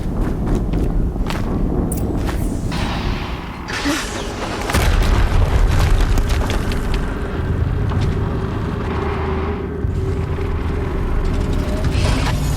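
Explosions rumble through the Maker's End mission of the video game Horizon Zero Dawn, a loud, sustained deep boom and roar with mechanical clatter that swells after a few seconds.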